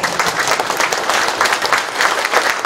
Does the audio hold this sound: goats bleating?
no